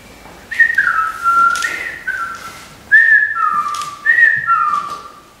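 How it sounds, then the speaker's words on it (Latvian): Someone whistles a simple tune of several sliding notes in short phrases with brief pauses between them, close and clear against a quiet background. "taisījis vālīti un sācis svilpot"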